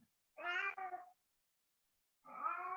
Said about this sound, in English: Cat needs some love.